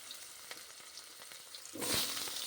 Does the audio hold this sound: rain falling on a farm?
no